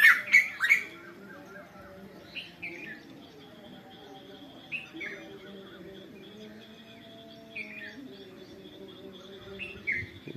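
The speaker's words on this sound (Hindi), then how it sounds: "परिंदों की आवाज़ें इंजॉय करें।" Birds chirping and squawking at dawn in a quiet outdoor setting, including a bulbul, with a few loud calls at first followed by scattered, softer tweets and a faint insect hum.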